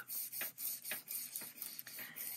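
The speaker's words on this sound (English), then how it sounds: "you want to take your steel wool and lightly rub." Steel wool lightly rubbed over a laser print laid on a gel printing plate, giving soft, repeated raspy strokes in a steady back-and-forth rhythm, close and fairly quiet with no talk.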